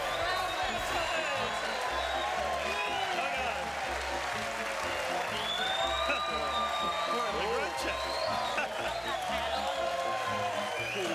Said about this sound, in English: we've got a big crowd in for Faz too